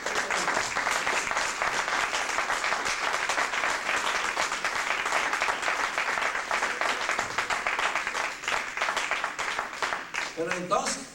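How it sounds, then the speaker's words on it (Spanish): Church congregation applauding in praise, a dense, steady wash of clapping that fills the space for about eleven seconds, with some voices mixed into the crowd noise and a brief louder spot near the end. "Denle el aplauso al Señor, hermano."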